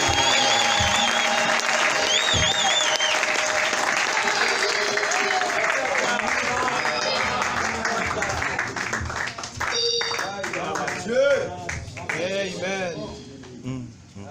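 A church congregation applauding, sustained clapping and crowd noise that carries on steadily, with voices rising over it in the later part and the clapping thinning out.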